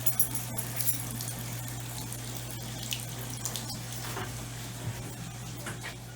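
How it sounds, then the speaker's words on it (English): Water running steadily from a sink faucet, a continuous close splashing rush with a low electrical hum beneath and a few small clicks and knocks. "turn the sink on, let it run for a little bit"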